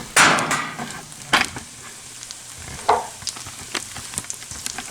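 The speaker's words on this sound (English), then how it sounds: "sweating the onions and the garlic" Onions and garlic sweat in a hot pan, giving a soft sizzle broken by a few sharp knocks and scrapes as they are stirred, close by and with no talking.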